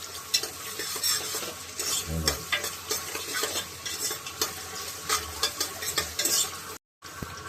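A spoon stirs sliced onions and green chillies frying in a pan, close and continuous: scraping strokes over a steady oil sizzle, with no voices.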